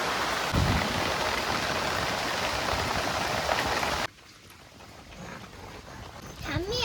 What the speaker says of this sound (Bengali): ঠিকই বলেছিস বৃষ্টি হলো